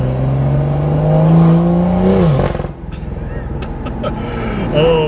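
A BMW M2 F87 fitted with an iPE exhaust system revs hard, a loud rising engine note that peaks and drops off, followed by a rumbling idle with crackles close by; someone talks briefly over it.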